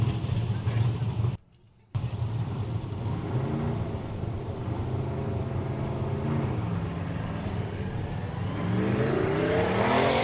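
A BMW E46 race car on a drifting course during qualifying, a steady loud engine roar that briefly cuts out, then holds and rises in pitch as it accelerates, with commentators talking over it.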